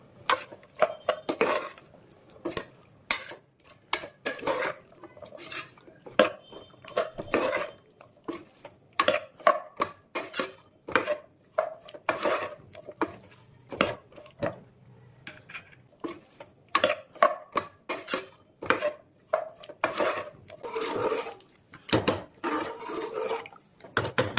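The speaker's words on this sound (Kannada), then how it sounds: "ಗರಂ ಮಸಾಲ, ಈಗ ಸ್ವಲ್ಪ ಮಿಕ್ಸ್ ಮಾಡ್ಕೊಳ್ಳೋಣ ಮಸಾಲೆ ಹಿಡಿಯೋವರೆಗೂ" A spoon or ladle stirs palav with garam masala in a pot, producing a long run of irregular close clanks and scrapes, some louder than others, with brief quieter pauses and no talking.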